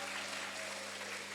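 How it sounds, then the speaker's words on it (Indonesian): Students and audience clapping at a high school talk show on sustainable living, a short steady patter of applause over a constant room hum. "tepuk tangan."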